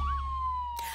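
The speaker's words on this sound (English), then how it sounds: "The siren is so loud on this firetruck." A loud toy fire truck siren wails in a steady electronic tone with a short rising-and-falling sweep, cut off abruptly by a brief burst of noise near the end.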